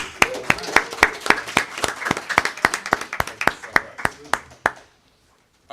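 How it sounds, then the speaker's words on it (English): An audience at a blockchain and hip-hop panel event claps for the host in a brisk, evenly spaced run of sharp claps that stops abruptly into silence. "So give a warm round of applause for our host and"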